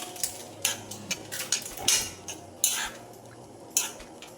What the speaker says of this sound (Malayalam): സോ ഇതാ മിക്സ് ചെയ്യുകയാണ് എല്ലാം കൂടി.